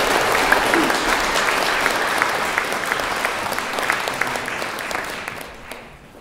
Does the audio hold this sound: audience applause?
yes